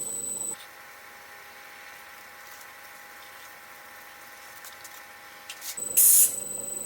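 A steady hiss of CA glue activator sprayed onto a pen blank, one continuous burst lasting several seconds, close and fairly quiet, alone with no talk.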